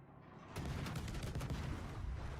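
Heavy naval guns fire in World of Warships, a dense rolling barrage of booming salvos that swells suddenly after a brief quieter lead-in and keeps rumbling loud and continuous to the end.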